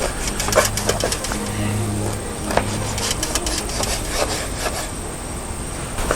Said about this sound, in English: just cut these up into small pieces around 1/4 to 1/2 inch